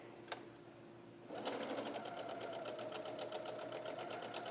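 A sewing machine stitches quilt block pieces for a barbed chevron block. There is a brief click, then a steady, fast, close running whir that continues to the end without any talk.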